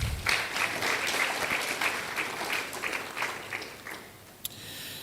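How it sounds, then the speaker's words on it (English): An audience applauds, a dense crackle of many hands clapping that swells, then gradually thins and fades, ending with a lone sharp clap. "A round of applause, please."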